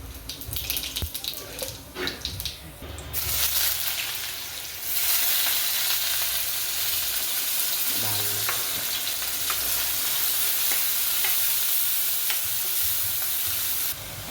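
Red chilli powder, coriander powder, salt, turmeric, pav bhaji masala and cumin roasting in a pan for pav bhaji, a loud hissing sizzle with scraping stirs that grows steadier partway through.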